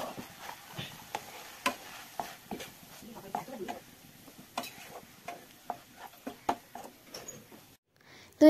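Spatula stirring and scraping through a vegetarian banana flower curry seasoned with salt, turmeric, ginger, cumin and green chili paste in a pan, a steady run of close, uneven scrapes and clicks that ends in a sharp knock.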